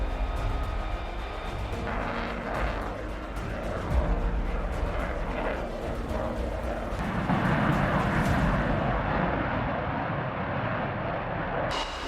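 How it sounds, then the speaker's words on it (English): US F-35 Lightning II fighter jets fly over Łask Air Base in Poland, producing a broad, continuous jet roar that swells and fades across about twelve seconds, heard from a distance with rumbling low end. "It was the sound of the F-35 Lightning II."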